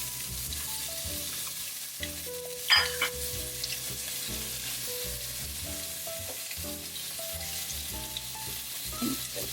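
Potatoes frying in olive oil in a pan give a steady, even sizzle throughout, with a brief clink or stir partway through and small utensil sounds over the constant crackle.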